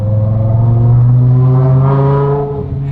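A modified BMW M5 Touring's V10 engine revs loudly and close, a sustained rising and falling mechanical howl with strong harmonics, heard alone.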